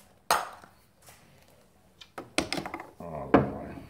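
A bottle of Chimay Blue beer being opened with a small Buddha figure used as an opener: sharp knocks and clinks of hard objects against glass, a few close taps and scrapes, with brief voices nearby.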